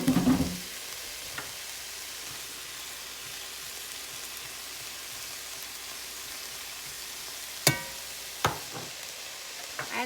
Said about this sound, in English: I've got these browning in a tablespoon of canola oil.